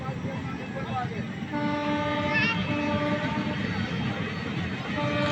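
A crowded Balurghat–Malda Town passenger train rumbles steadily along with a sustained tonal horn or whistle sounding over the running noise; voices murmur in the background.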